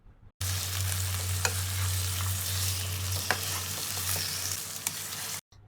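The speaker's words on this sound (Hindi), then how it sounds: "2 से 3 मिनट तक हम इसे खूब भूनेंगे।" Mutton browning in a non-stick pan, a steady close sizzle running throughout, with a few sharp scrapes and clicks from stirring, and no voices.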